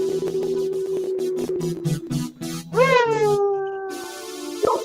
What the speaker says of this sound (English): MGTOW Mutt singing you the song of his people